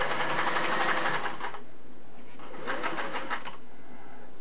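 Singer Model 401A sewing machine stitching in two short bursts, a longer run, a pause, then a second brief run, moderately close with no talk.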